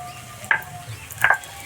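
Vegetables for veg chowmein fry on low heat in a pan, a soft steady sizzle with two short louder scraping stirs.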